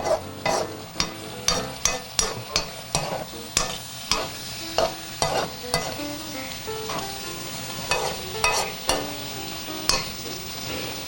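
Shrimp and steak sizzle together on a hot teppanyaki-style griddle for a teriyaki surf and turf, with a steady fry under rhythmic metallic spatula scrapes and taps repeating about twice a second, close and clear.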